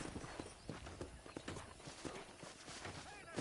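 A horse in the Red Dead Redemption video game clip-clops along in a steady trotting rhythm of distinct hoof beats, fairly quiet, with occasional background voice or game sounds underneath.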